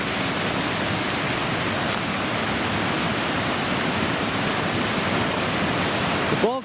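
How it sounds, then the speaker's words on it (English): A mountain creek rushes beside a trail near Marion Peak, a steady, full hiss of flowing water that stays close and even throughout. "And there's the creek."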